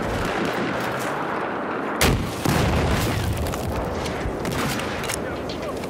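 A vehicle blows up in the Battlefield video game, with a sharp double boom about a third of the way in. Steady gunfire and battle noise run throughout, and game voices may be faintly audible.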